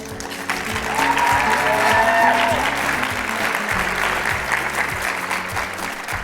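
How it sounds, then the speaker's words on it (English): At a cultural closing celebration, an audience gives a sustained round of applause for fashion designers returning to the stage, steady and full throughout, with music and a brief voice mixed in. "let's give them another round of applause"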